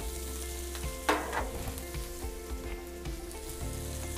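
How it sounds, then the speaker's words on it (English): Butter, herbs and garlic sizzle in a hot pan beside a bone-in strip loin steak, a sharp burst of spitting as they hit the fat, then a steady close crackle with a low hum beneath. "I'm gonna throw in some butter. I got some herbs and some garlic that I'm gonna put in here."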